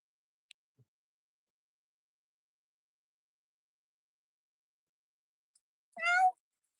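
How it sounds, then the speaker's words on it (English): A single drawn-out cat meow near the end, loud and close, after several seconds of near silence broken by a couple of faint clicks. "Kitty cats."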